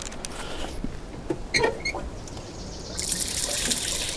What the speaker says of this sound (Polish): No próbujemy zlać tą wodę, zobaczymy co będzie.